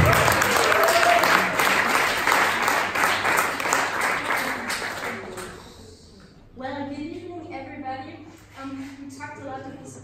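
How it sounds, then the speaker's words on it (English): Audience applause at an alumni talk on sustainable travel: a loud, sustained burst of clapping from a full room that fades after about six seconds, followed by a speaker's voice. "Please give a huge round of applause."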